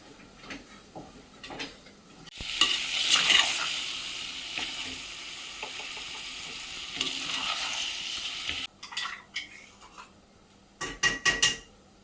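Chicken curry with masala sizzles and fries in a pan with scraping stirring strokes, loud for several seconds, then brief clatters of utensils against the pot.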